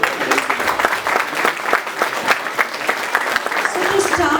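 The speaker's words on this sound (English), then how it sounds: "First, a big clap from all of them." Concert audience at a festival in Hamburg clapping loudly and continuously for several seconds, a dense, close, even burst of applause.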